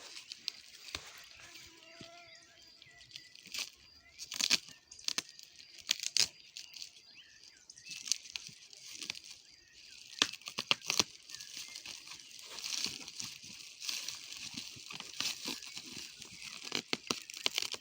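Plastic film is cut and torn, crinkling and ripping in a series of sharp, uneven bursts up close, with scattered crackles and brief pauses between tears.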